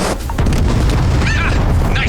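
A heavy boom from a Skydrop missile strike in a space video game, one deep sustained blast with a rumbling low end that fills nearly the whole moment.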